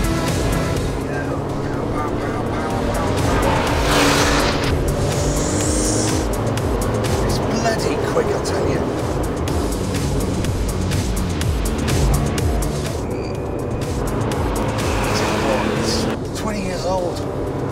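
A 2002 Porsche 911 Turbo (996) driven hard around a test track, its engine roaring loud and steady with rising and falling revs through corners, mixed with some wind and tyre noise.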